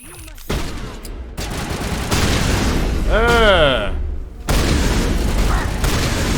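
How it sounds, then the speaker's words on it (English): Shotgun blasts in the Mass Effect Legendary Edition PC game, loud booming bursts amid combat noise and a short rising energy-weapon whine, with a pause near the middle before the firing resumes. "I'm gonna have to switch to shotgun for this"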